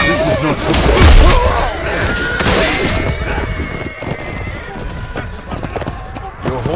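Horse in the medieval combat video game Chivalry 2 whinnies loudly near the start, with clip-clopping hooves, crashes and breaking impacts in a busy battle mix, and voices shouting.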